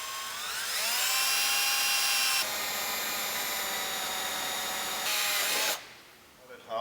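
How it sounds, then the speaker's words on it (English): A power drill whirs loudly and steadily, speeding up, holding a high whine, then winding down after several seconds of continuous drilling. "Now I start drilling all the holes."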